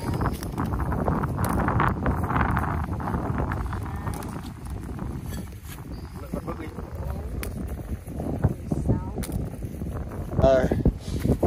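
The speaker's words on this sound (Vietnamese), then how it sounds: "Gió quá" Strong wind blows at the beach where clams are being dug, a rough buffeting roar across the microphone, with people talking over it and brief handling noises.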